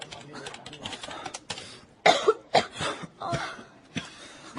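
An office worker in a Korean drama coughs from a gas leak, producing a few sharp, close coughs in the middle of the clip with quieter rustling and faint voices around them.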